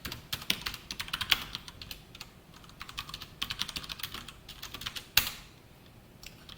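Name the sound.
typing on a computer keyboard during a coding lecture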